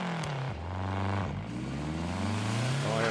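A Lancia Delta rally car on tarmac in Assetto Corsa Rally, its engine droning steadily and loudly up close throughout, pitch rising and dipping with gear changes and throttle, with no talk over it.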